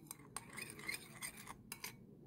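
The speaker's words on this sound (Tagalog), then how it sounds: "Haluin lang natin." A spoon stirs an aloe vera and honey face mask in a small dish, giving soft, faint scraping and clinking taps in an uneven rhythm, close and quiet.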